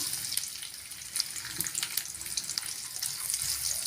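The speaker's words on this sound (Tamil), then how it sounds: "தேங்காய் கொஞ்சம் கலர் மாறு வரைக்கும் வதக்கி விட்டுக்கலாம்" Cumin seeds and a few coconut pieces frying in hot oil for a Tamil raw banana fry make a bright, continuous crackling sizzle with small popping bursts, close and steady, with no talking.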